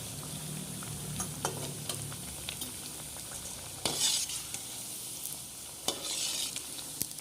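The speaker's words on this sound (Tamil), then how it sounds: "இது நல்லா பொரியட்டும்." Banana flower vadai fry in hot oil with a steady close sizzle and bubbling, broken by a few sharp scraping stirs of a utensil against the pan; no voices.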